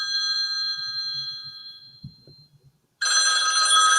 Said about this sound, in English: Somebody's calling in on my phone and I can't stop them.